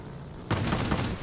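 A sudden burst of rapid, heavy 30mm automatic cannon fire from a Bf 109 Z in World of Warplanes erupts after a brief low rumble, loud and continuous to the end.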